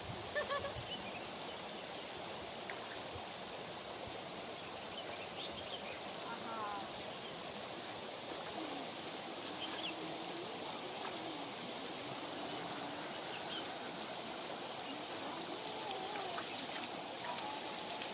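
A river flowing near a riverside temple in the Uttarakhand hills, a steady broadband rush of water running continuously and fairly close, with faint background voices.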